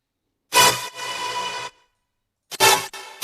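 Short bright synth bursts, one followed by a washy reverb tail that swells and cuts off, then more stabs after a brief silence.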